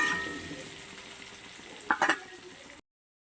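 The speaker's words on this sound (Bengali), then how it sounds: "বন্ধুরা আলুটা ভাজা হয়ে গেছে" Potatoes fry in hot oil with a steady, faint sizzle, broken near the end by two or three quick metallic scrapes of a spatula in the pan.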